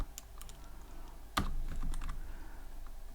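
Close, steady typing on a computer keyboard while entering Python Tkinter code, with a run of quick clicking keystrokes and one louder key press midway; no talking.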